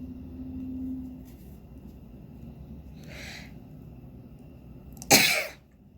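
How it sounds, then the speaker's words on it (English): A single sharp sneeze from a person crocheting Halloween hot pads at home, loud and close, with a fainter breathy build-up a couple of seconds before it. "I have to sneeze"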